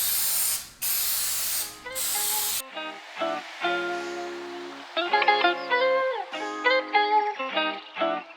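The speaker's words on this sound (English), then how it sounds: "we're going to go ahead and spray this on" A spray can hisses onto car upholstery during an interior reupholstery job, with three short bursts of loud, broad hiss in the first few seconds, then other tonal sounds continue without spraying.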